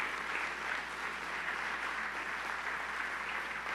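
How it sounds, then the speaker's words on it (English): Audience applause at an app launch event, steady dense clapping from a crowd that continues evenly throughout, fairly faint and without speech. "Let's give her a round of applause, ladies and gentlemen"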